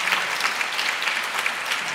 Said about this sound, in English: we'll have the applause for Miranda separate when I'm done